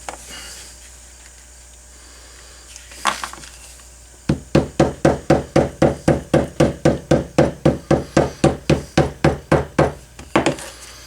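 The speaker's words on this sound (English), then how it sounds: "Get my hammer out." Hammer tapping glued leather pieces of a bifold wallet to press them together, a steady run of about twenty close, evenly spaced sharp knocks after a few quieter handling sounds.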